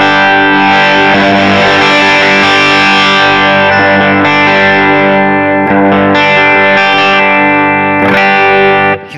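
A heavily distorted electric guitar chord through a humbucker pickup at full volume rings out loud and sustained, with a thick, saturated tone and slight changes as the strumming shifts.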